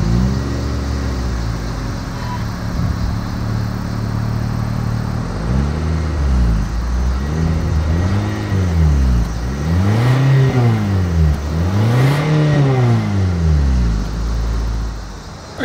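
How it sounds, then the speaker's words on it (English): A 2024 Mitsubishi Outlander exhaust note, starting as a steady idle and then revved in four or five rising and falling sweeps, loud and close, with no talking. "here is that exhaust clip"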